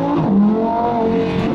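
Porsche 911 Carrera engine revving, a loud, close, rich mechanical roar with shifting pitch sustained through a short burst and no talking.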